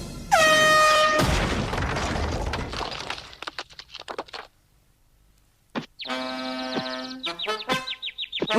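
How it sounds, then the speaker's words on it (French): A baseball fan's klaxon horn blares out in loud, harmonic blasts, first one long honk and later a string of short ones, mixed with a crash of shattering objects and brief stretches of near silence. "un klaxon."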